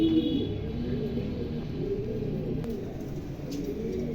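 A pigeon coos in low, steady, repeated throaty calls close by, with a faint chirp now and then, and no talk over it. The bird is a red or silver-coloured female.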